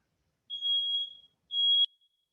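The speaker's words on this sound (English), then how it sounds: "That's why this beeping sound." Smoke alarm set off by cooking gives two shrill high beeps in quick succession, each about half a second long, fairly faint against silence.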